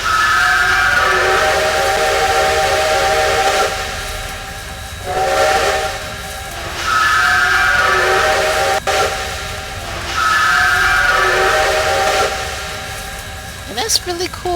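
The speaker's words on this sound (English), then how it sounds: "apparently there's a secondary whistle that will operate a like a squelch sound." A secondary steam whistle on CN S1b locomotive 3254 in the Trainz game sounds three long, loud chime-like blasts with short gaps between, followed by a brief squealing burst at the end.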